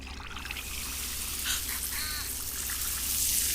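Water pours over food in the animated movie Elemental, a continuous trickling, splashing stream under a steady noisy background, with brief voice-like sounds in the middle.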